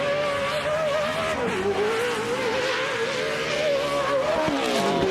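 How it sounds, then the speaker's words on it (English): Off-road race truck engines at a 2014 TORC race in Primm scream continuously at high revs, a loud, wavering whine that rises and falls as the trucks charge past. "Listen to the sound of those engines screaming"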